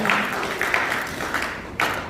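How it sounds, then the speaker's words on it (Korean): Guests at a formal signing ceremony clap together, a scattered burst of applause from a modest crowd with a few sharper claps near the end, moderately close. "우리 내빈 여러분 박수 한번 부탁드립니다"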